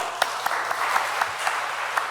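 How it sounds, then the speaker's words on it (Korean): Audience applause at a Korean women's mission devotional church service, a brisk, even patter of many hands with a few sharper claps standing out, continuous from start to finish. "우와, 박수."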